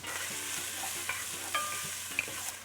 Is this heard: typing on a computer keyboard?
no